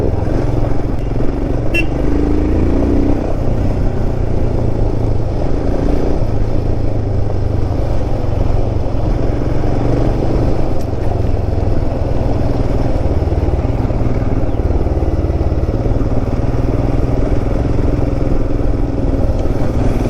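A Royal Enfield motorcycle rides a dusty, twisty mountain road while overtaking vehicles, its engine a loud, constant close rumble mixed with heavy wind buffeting throughout.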